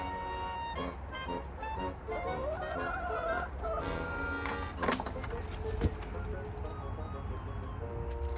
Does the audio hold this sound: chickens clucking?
yes